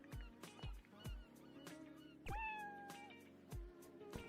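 A kitten meows repeatedly, high and close, in several short cries with a couple of longer wavering calls, over faint background noise.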